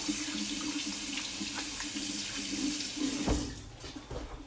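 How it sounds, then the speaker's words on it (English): A kitchen tap runs steadily into a sink as gnocchi dough is washed off hands, a continuous close water splash with a brief louder spatter near the end. "Got to kind of wash that dough off."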